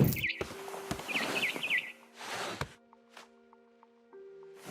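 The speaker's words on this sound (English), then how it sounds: "Then I heard chirping outside my window. It was a barn swallow going back to her nest." Chirps from a barn swallow in the video game What Remains of Edith Finch come as a few quick high tweets. They are mixed with soft thumps and game ambience, fairly close and moderately loud.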